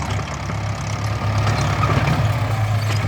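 A farm tractor engine runs at a steady, heavy low rumble and drones on close and loud without a break.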